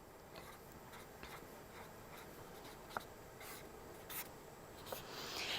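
Pen or pencil scratching across paper while electrons are sketched for a chemistry exercise, quiet soft strokes in short bursts with a few sharper taps, close and alone.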